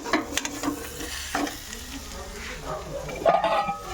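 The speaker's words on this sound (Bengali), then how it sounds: "পেঁয়াজ দিয়ে ছাতু দিয়ে ভাজা হচ্ছে" Onion and sattu fry softly in a pan, stirred with a few light scrapes and taps over a quiet, faint sizzle heard up close.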